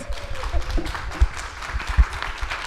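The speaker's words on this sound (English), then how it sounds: "Give these ladies a round of applause." A conference audience applauding panelists at the end of a publicist roundtable talk, a modest, even patter of hand claps spread across the room at moderate loudness, with a few stronger claps and a faint voice underneath.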